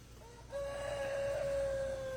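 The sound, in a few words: young rooster trying to crow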